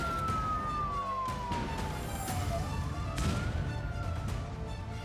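A war air-raid siren wails across Israel during an Iranian missile attack, its single tone sliding slowly down and then back up, loud and steady over a low rumbling background with no talk.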